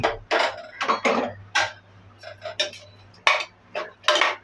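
A spoon stirring beef tawa curry in a metal pot, a series of short scraping, clinking strokes at close range in an otherwise quiet kitchen.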